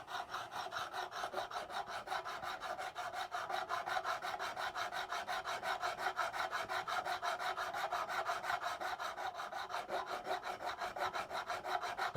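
Steady metallic rasping as a Music Nomad fret file rounds jumbo guitar frets at the 12th fret, a fast even back-and-forth scrape repeating close and quiet throughout, with no talking.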